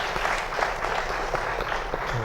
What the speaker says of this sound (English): a big round of applause to the panelists